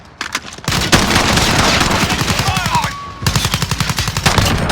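M4 rifle and Glock pistol gunfire in Call of Duty Modern Warfare, with rapid, loud, evenly spaced automatic shots in sustained bursts, a short pause, then another quick volley, with game effects mixed in.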